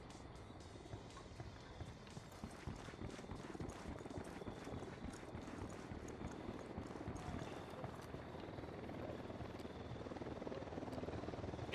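A helicopter in the video game Ghost Recon Wildlands flies close by, its rotor making a steady, dense thumping roar that stays loud and unbroken for the whole stretch, with no voices over it.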